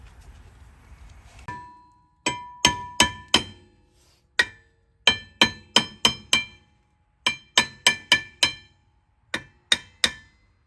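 A hammer strikes the rear brake rotor on a 2007 Honda CR-V in sharp, ringing metallic blows, close and loud, coming in quick irregular bursts of two to four hits separated by short pauses.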